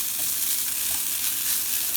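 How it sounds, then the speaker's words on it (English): Shredded coconut toasting in a dry pan for a curry masala, giving a steady, soft sizzling crackle with faint stirring throughout, alone and without talk. "we can just lightly toast it up until it turns into a light brown color"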